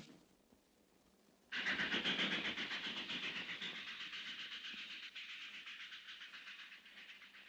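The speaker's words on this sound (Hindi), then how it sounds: "तो रेलगाड़ी देख रहा है" A train rolls along the rails, starting suddenly after a quiet moment with a loud hissing rush and a steady rhythmic clickety-clack of wheels over rail joints that slowly fades a little.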